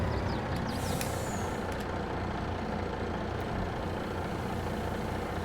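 A truck hauling soybeans in Farming Simulator 22 drones along at a steady engine rumble, with a short hiss like an air brake near the start. There is no talk.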